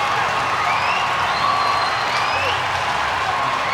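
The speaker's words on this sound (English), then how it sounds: "The crowd didn't need any more excuse to get going." An ice hockey crowd at a Sheffield Steelers versus Nottingham Panthers pre-season game roars during a fight on the ice, with dense sustained cheering, scattered whistles and whoops filling the arena.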